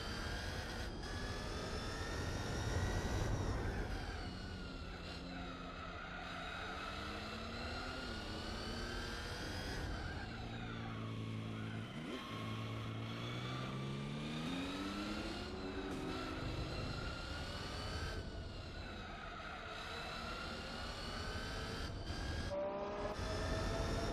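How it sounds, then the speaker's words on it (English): Engine note of a car in the Monaco tunnel in Gran Turismo 4, a steady loud droning hum with tonal pitch swells and dips as the revs rise and fall, continuous throughout. "It's a shame the engine sound isn't as good."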